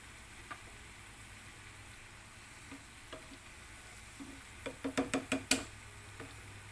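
Vegetable manchurian frying in oil, a steady low sizzle with scattered pops and a quick cluster of louder crackles and clinks near the end, no talking.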